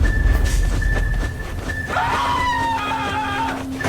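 A character screams in the Roblox game Evade, a loud drawn-out wail rising partway through over the game's background noise and a sustained tone.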